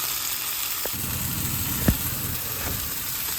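Salmon and prawns sizzling in a frying pan, a continuous close hiss under a low fan-like hum, with a single sharp clack partway through.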